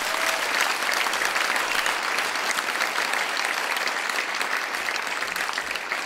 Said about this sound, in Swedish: Vi kan ge den här orkestern en applåd.